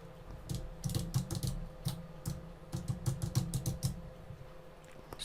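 Someone types a company name on a computer keyboard while making a website logo, producing close, crisp clusters of rapid key clicks separated by short pauses.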